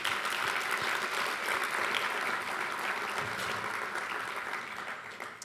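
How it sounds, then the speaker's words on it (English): Audience applause for the panelists at a university summit on modern conflict and emerging threats, a dense, steady wash of many hands clapping that holds for several seconds and eases slightly toward the end. "all our panelists one more time with a round of applause"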